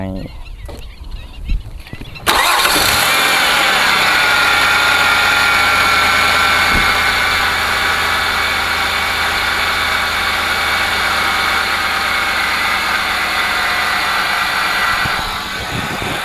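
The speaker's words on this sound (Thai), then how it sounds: "เดี๋ยวเราไปฟังเสียงเครื่องยนต์กันครับ" A Ford Escape 3.0 engine cranks and catches after a quiet moment, then settles into a smooth, steady idle that runs loud and close to the end.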